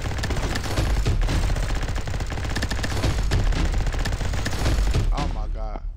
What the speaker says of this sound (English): Minigun, boys.